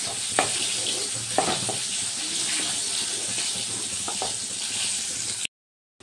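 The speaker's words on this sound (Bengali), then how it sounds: "সব মশলাগুলো এবার ভালো করে কষিয়ে নেব।" Spices with ginger paste and half a spoon of turmeric powder sautéing in a pan, a loud steady sizzle with a few sharp stirring clicks, stopping abruptly into silence near the end.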